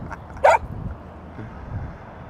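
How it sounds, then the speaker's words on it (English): A single short, sharp bark from a playful dog, close by and loud, followed by quiet breathing and faint low sounds during a training session. "What are you doing, you cheeky dog?"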